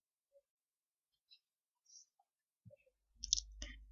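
A computer mouse clicking on a Windows 11 PC while deleting temporary files, a few faint sparse clicks in near silence, then a quick pair of louder clicks over a low hum at the end.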